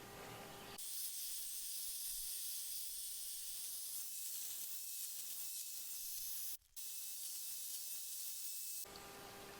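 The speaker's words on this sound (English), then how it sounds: "Spray both sides and in these slots to keep everything nice and slick and clean" Dry lubricant sprayed from an aerosol can onto the blades and slots of a Ryobi P2607 hedge trimmer, a steady close hiss running almost unbroken for several seconds with one brief pause near the end.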